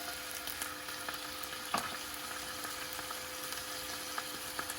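Chopped capsicum sautéed in a pan with a spoonful of soy sauce for oats manchurian, a soft, even sizzle with one clear scrape of the spoon, fairly quiet.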